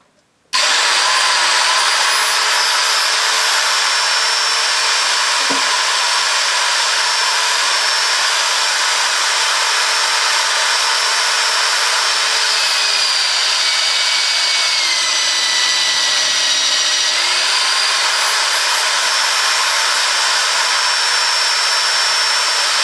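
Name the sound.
electric drill drilling 8mm holes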